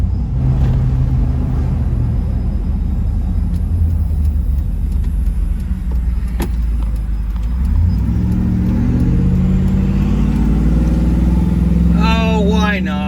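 A supercharged Hemi truck engine rumbles loudly at idle for most of the stretch, then revs up with a rising roar near the end.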